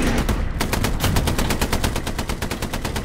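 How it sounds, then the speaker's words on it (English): Sustained machine gun fire in the World War II shooter Hell Let Loose, a loud, rapid, evenly spaced burst of shots running without pause, close and dense, with no voices over it. "There's a guy on a machine gun on that tree"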